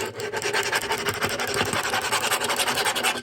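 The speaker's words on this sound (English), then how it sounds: "There's legs sticking out the bottom. They scrape against the desk." Continuous rough scraping of small plastic toy-figure legs dragged across a hard desk surface, close and raspy, with uneven back-and-forth strokes.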